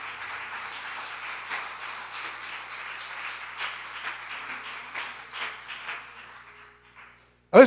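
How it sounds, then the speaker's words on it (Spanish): A church congregation claps together, a broad wash of many hands at moderate distance that swells and gradually fades, ending in a sharp bump near the microphone. "Dale fuerte ese aplauso a Jesús"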